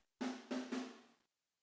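Three quick, roomy snare drum hits in a row, each with a ringing tone and a short reverberant tail. The hits are fairly quiet, and no one speaks.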